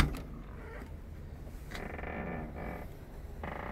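A cab door of a used, aging Hyundai truck is opened close by, giving a few creaks and a mechanical latch clunk before a steady low rumble and hiss fill the rest.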